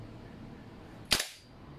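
G&G MGCR 556 airsoft gas blowback rifle fires a single sharp crack with a brief gassy hiss tailing off, close and loud against a quiet room.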